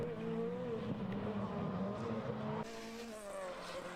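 Rally cars racing on a closed circuit, engines droning and revving in the distance with shifting pitch, a faint tire squeal and a sudden drop in level partway through.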